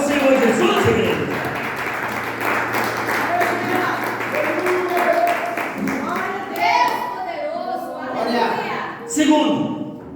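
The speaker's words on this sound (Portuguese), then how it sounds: "Aplauda ao Senhor Jesus, igreja." A church congregation claps and cheers in praise during a family worship service, a dense, sustained wash of applause with voices calling out and a sustained tone underneath.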